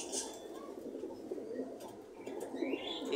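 English Carrier homer pigeons at a pigeon market give soft, low cooing calls, with a few faint chirps and rustles around them.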